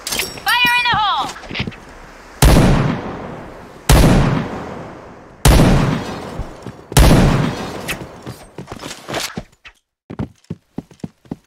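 Several loud grenade blasts in a first-person shooter game, about four heavy booms spaced a second or two apart, each with a long rumbling tail, after a shouted voice line and followed by scattered gunfire clicks.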